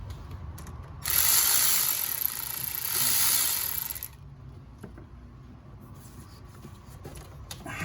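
Ratchet loosening bolts on the intake of a 2008 Ford Escape 3.0 engine during a spark plug job, a close, loud run of rapid clicking bursts, then fainter scattered clicks and handling noises.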